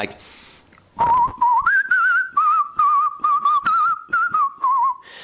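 A person whistles a wavering melody with vibrato, close and clear, in short rhythmic phrases after a second of quiet.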